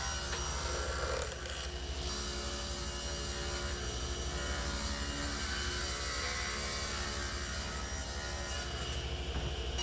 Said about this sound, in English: I ripped the style to its final width as well as the sides of the mantel.